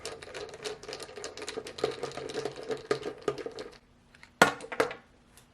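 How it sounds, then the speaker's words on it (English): Torx head bolts being removed from a La-Z-Boy swivel rocker recliner base, a rapid clattering ratchet-like ticking of a driver working, then a pause and a couple of sharp metallic clinks, close by. "they use Torx head bolts, so we're going to go ahead and remove them"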